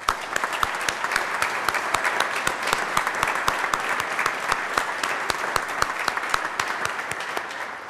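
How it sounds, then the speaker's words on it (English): A legislative chamber audience applauds veterans in a round of thanks during a state senate session, with steady dense clapping running evenly through the whole stretch and sharp individual claps standing out near the listener. "we'd like to again thank you with a round of applause for your great service to our country."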